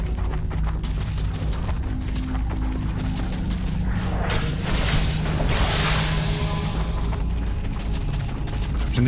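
A small enemy blowing up in the action RPG Sacred 2, heard as a dense, continuous rumble of crackling blasts and whooshes that swells in the middle and stays loud throughout, with no voices.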